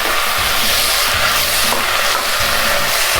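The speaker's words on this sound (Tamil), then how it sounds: "அதனால் இந்த 2 கீரையும் ஒரு நிமிஷம், ரொம்ப நேரம் கீரையை வதங்கக்கூடாது, ஆனால் ஒரு நிமிஷம் நம்ம இதை இப்போ பிரட்டிப்போம்" Manathakkali greens and a second leafy green are tossed briefly in a hot pan, a loud, dense hissing sizzle with low rumbling stirring underneath, steady throughout.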